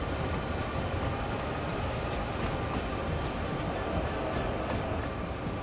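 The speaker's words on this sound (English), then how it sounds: "There's another train I heard." A train from Train Sim World 2 on Sherman Hill between Cheyenne and Laramie rumbles past in a dense, steady roar with faint clicking, continuous and fairly loud throughout, with no voices.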